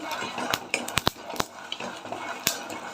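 Sago pearls are stirred as they fry in a pan, with a soft ongoing sizzle broken by several sharp clinks and scrapes of a utensil against the metal, fairly quiet and close.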